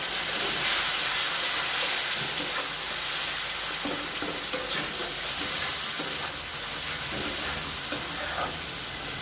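Masala cooking in a pan with hot water just poured in, a dense, loud, continuous sizzle and hiss with steady bubbling and occasional stirring scrapes throughout.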